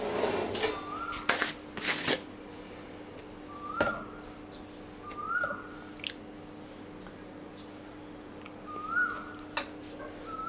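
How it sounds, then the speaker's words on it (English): A bird calls with short, soft rising notes repeated every second or two against a quiet background, with a few sharp clicks early on. "what you're hearing right now is a bird that is cooing"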